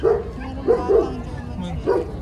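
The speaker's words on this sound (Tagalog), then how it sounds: "Lalaki ng aso." A large dog at a pet expo barks several times at irregular intervals, with loud, close, deep barks over a busy indoor background.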